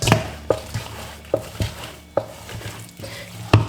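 Dough studded with raisins for hot cross buns is worked by hand, giving irregular soft slaps and thumps against a surface every half second or so, close and moderately loud.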